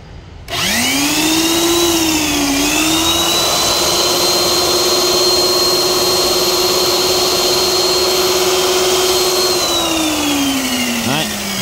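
A cordless double-blade 136 electric wood planer whines at a loud, steady high pitch after a sudden start, holding nearly constant before winding down slightly at the end.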